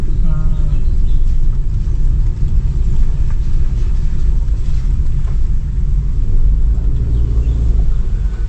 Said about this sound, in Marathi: ती आपली गाडी त्या ब्रिजवरून कशी जाईल तूच आता बघा